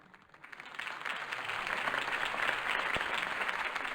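Video game crowd applause from Batman: The Telltale Series, building from scattered claps into a dense, sustained roar of clapping after a campaign speech.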